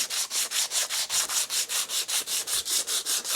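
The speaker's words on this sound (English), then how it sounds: "that's a 120. It's quite a rough grain on this one, but we'll just start rubbing away on the fork leg," Rough 120-grit sandpaper rubbed back and forth on a bike fork leg to strip old lacquer, a steady rhythmic scratching of about four strokes per second, close and fairly loud, with no talking.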